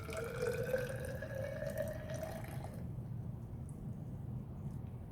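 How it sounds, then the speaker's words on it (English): Water pours steadily into a measuring cylinder with a pitch that rises as the vessel fills, then stops partway through, leaving a faint background hiss. "Now you can see here I am pouring the water into the measuring cylinder."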